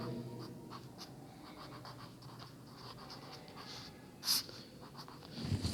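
A marker writes formulas on a board in a classroom lesson, producing faint, intermittent scratchy squeaks and strokes, with one slightly louder squeak near the end.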